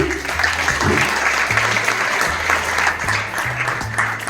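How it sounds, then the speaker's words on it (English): Steady, dense applause from a crowd, loud and continuous throughout, with a low tone humming beneath. "A very big clap for Sahil Midda ji."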